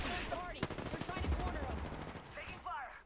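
Gunfire in a battle royale video game: a sharp close shot followed by a rattling string of rapid shots, mixed with game effects and voices talking over it.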